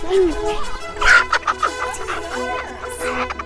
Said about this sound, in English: Oh, that chicken's out of here.